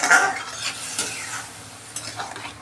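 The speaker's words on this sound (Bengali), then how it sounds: "একটু কষিয়ে নেব মশলার সাথে।" Okra sautéing in a pan with mustard and spices for a Bengali dharos chochori, giving a steady soft sizzle with scraping stirs and a few light utensil taps, close and without talk.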